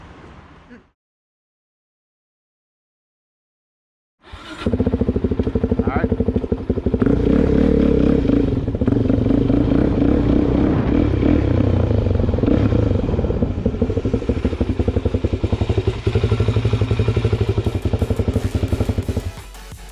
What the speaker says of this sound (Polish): Tutaj motocyklista przejeżdża pomiędzy samochodami